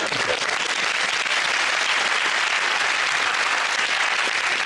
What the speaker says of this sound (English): I think a few of the men started clapping before the end of that joke